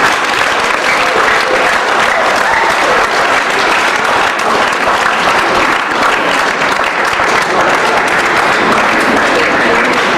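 Conference audience at a 2011 DRC elections event gives a sustained, dense round of applause, loud and even for the full stretch with no break, and little talk on top.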